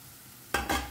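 Chopped medium tomato dropped into onions frying in a pan for a Goan vegetable caldine, a sudden loud sizzle that bursts in halfway through, followed by a second sizzling surge as the pan is stirred.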